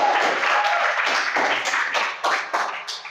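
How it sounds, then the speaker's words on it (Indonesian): Audience applause after a lecture in a classroom or seminar hall, a steady dense patter of clapping lasting about three seconds with a few louder bursts, no talking over it. "Kita berikan aplaus"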